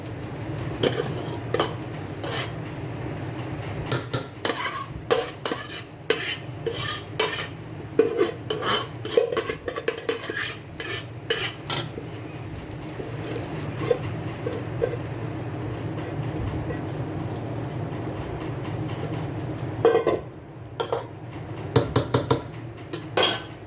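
Rice being added on top of layered onions in a cooking pot, with repeated metallic scrapes and clinks of a spoon against the pot coming in irregular bursts over a steady background hum.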